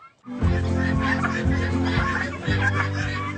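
Turkeys on a turkey farm give loud, close, repeated gobbling and honking calls in quick overlapping bursts, with no talking.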